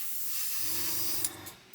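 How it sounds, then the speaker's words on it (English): Aerosol spray paint hissing from a can onto an Airfix 1/48 Sea King plastic model kit, a steady close hiss lasting over a second, then a couple of short bursts as the spray tapers off. "This is what happens when you use aerosol paint."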